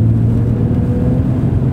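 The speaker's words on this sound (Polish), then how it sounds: "Można sobie właśnie samochód obciążyć mocniej, a wtedy z siebie takie gardłowe brzmienie wydostaje." A car engine pulling hard under load on a hilly road, giving a loud, steady, throaty low drone that stays even throughout with no speech.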